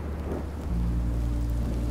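Rain hisses steadily in Minecraft: Story Mode while a deep, low thunder rumble rolls in and sustains, heavy and close.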